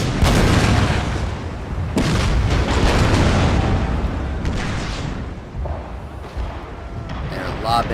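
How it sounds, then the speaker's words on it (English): Naval cannon fire from gunboats in a Total War: Shogun 2 sea battle, a dense rumble of booming shots and impacts rolling on continuously, with a voice talking over it. "They're lobbing a lot of shots out there, hitting one of the gunboats and causing them to surrender."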